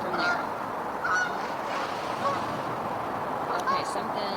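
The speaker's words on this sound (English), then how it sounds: "something sounds like a goose just landed in the other area" A goose honks a few times from some distance near water, short nasal calls over a steady outdoor background with faint voices.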